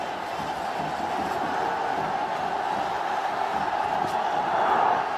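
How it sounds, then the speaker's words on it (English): Crowd in a Bangladesh cricket stadium during a BPL match: a continuous roar of distant cheering and shouting that gradually builds in intensity and peaks toward the end. "And look at the crowd. This place is bumping."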